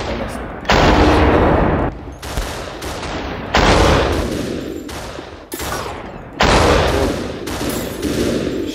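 Loud, dense bursts of video game gunfire, rapid volleys with a few short pauses between them, close and continuous across the whole stretch.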